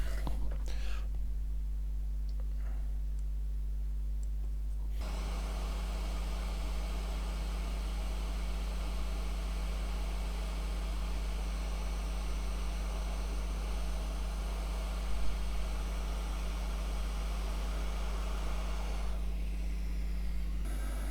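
Hot air rework station blowing a steady stream of hot air across a laptop circuit board during repair, a constant broadband hiss holding level for most of the clip over a low hum.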